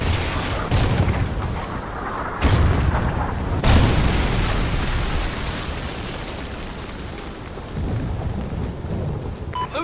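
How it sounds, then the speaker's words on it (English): A Trinity rocket strike in a first-person shooter game lands as a loud, sustained barrage of rumbling explosions. Several booming impacts stand out above a continuous thunderous roar. "Friendly Trinity rocket inbound."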